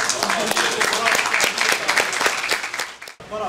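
Broad applause from a crowd fills the clip, steady clapping throughout with voices mixed in, then it cuts off near the end.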